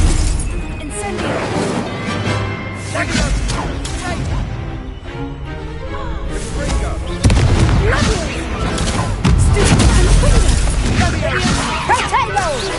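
Fire spell blasts in a wizard video game, a dense run of loud crackling bursts and booms layered over game noise, with a voice calling out spell names throughout.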